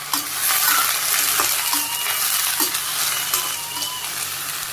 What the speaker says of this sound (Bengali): কড়াই গরম হয়ে গেছিল, তেল দিয়ে দিছি, আমি সরিষা দিয়ে দিলাম, শাপলাগুলো দিয়ে দিই